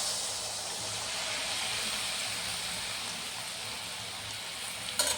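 Oil sizzles and hisses steadily in a pan, close and fairly quiet, with a brief clatter near the end.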